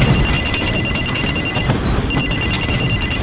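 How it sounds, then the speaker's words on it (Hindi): A phone ringing with a loud electronic trilling ring, two bursts separated by a short pause, close and alone without talk. "थोड़ी देर में मेरा फोन बजा।"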